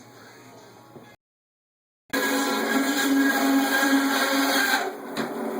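A meat band saw runs steadily and loudly, cutting pork loin from a home-raised hog into thick chops, after about a second of quieter machine hum and a brief silent gap.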